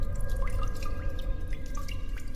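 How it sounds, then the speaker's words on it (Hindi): Water trickling and dripping in a bathroom, with scattered drips over a steady low running wash, moderately loud and close, alone with no talk. "बाथरूम से पानी बहने की आवाज सुनाई दे रही थी।"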